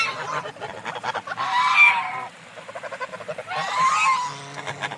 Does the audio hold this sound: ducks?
yes